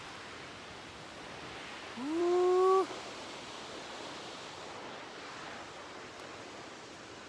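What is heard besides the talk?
Bajos del Toro waterfall in Costa Rica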